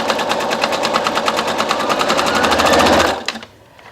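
A sewing machine running a regular straight stitch on fabric, a loud fast steady mechanical rattle for about three seconds before stopping abruptly.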